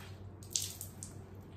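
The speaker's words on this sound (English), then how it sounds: "You can see how the water flows from it." Water streams and drips from a soaked sweatshirt in a shower, a steady faint wash broken by a few brighter splashes and droplets, heard close and without talking.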